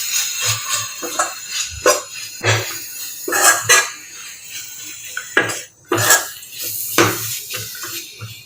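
Grated carrot being stirred and sautéed in a pan while making masala dosa filling, with intermittent clinks and scrapes of a spoon against the pan over a low background, no talking.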